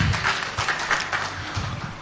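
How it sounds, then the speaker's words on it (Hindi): Audience applause at an influencer session on content creation, a brief, moderately quiet burst of many hands clapping together, steady and unbroken. "तालियां इनके लिए बजनी चाहिए"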